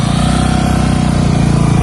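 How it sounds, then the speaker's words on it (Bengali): A motorbike engine drones steadily up close while riding a broken, pothole-filled, dusty and sandy rural road in Dakshin Bedkashi, a loud continuous hum with no voices. "এখানে আসে মোটর বাইক নিয়ে"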